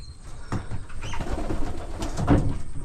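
A pair of blue bar pigeons cooing at a farmhouse set among fields, with low throaty coos repeating close by amid light rustling and faint outdoor background noise.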